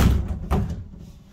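The shower cubicle door of a 2009 Autosleeper Surrey motorhome swings shut and closes magnetically, giving two close, dull thuds about half a second apart, then quiet.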